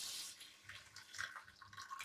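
Soaked dried prawns being rinsed under running water, a faint, steady splashing and trickling that lasts throughout with small surges, with no talking.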